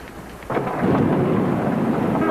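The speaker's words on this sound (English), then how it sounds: "I like driving in the rain" Heavy rain and rolling thunder surround a car on the road, a sudden loud surge of rumbling roar that holds steady as the downpour continues, with no voices.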